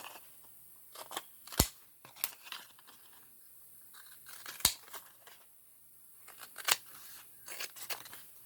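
Scissors snip around a paper craft tag in a run of separate cuts with sharp bursts and short pauses, close and fairly quiet, with no talking.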